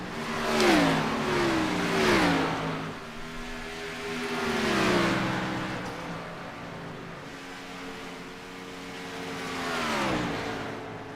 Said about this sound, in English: You should be able to hear these cars nice and clear.